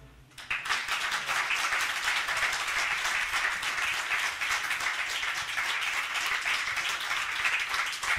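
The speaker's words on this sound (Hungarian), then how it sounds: "Köszönjük szépen a tapsot." Sustained applause from a jazz concert audience after a swing performance, starting abruptly and holding as dense, even clapping for several seconds.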